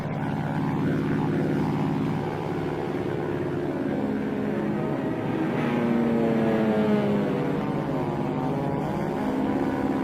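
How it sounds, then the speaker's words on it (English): Droning World War II carrier propeller aircraft engines roar continuously over Iwo Jima as planes strafe the island, a steady loud rumble with wavering pitch as they pass overhead. "120 carrier planes set off to strafe the island with napalm and gunfire"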